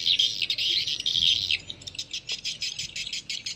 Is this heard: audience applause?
no